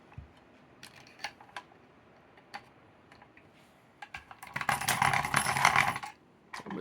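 A Carl desktop pencil sharpener with rubberized gripping teeth sharpens a pencil: scattered light clicks and taps, then a dense grinding burst of about two seconds, close and fairly quiet.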